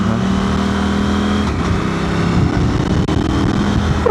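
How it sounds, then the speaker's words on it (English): A KTM 790/890 Adventure motorcycle with a modified ECU accelerates hard through a corner, its engine note loud and continuous, rising steadily in a throaty roar with no talk over it. "just listen to that bike pick up off the bottom"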